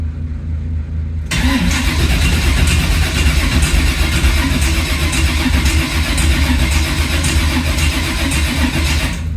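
A 1980 Camaro with no exhaust fitted cranks and catches, then runs loud and rough close by, a continuous throaty engine roar that holds steady after the start, with no talk over it.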